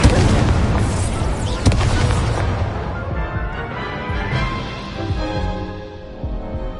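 Incendio fire spell blasts in the video game Hogwarts Legacy, a dense run of booming explosions and crackling impacts layered over continuous battle noise, loud and close throughout.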